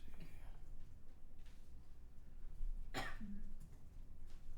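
A single sharp cough cuts through quiet room noise during a WarCry tabletop game match, followed by a brief vocal murmur.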